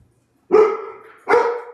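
A dog barks twice, loud and close, two sharp separate barks with a short gap between them, in a home where a man keeps several dogs.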